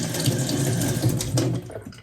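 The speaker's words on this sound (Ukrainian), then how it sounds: "І я беру ще під краном ось так очищаю шкурочку верхню." Tap water runs steadily into a sink while mushrooms grown in peat are rinsed and peeled underneath, a close, continuous splashing flow that thins out near the end.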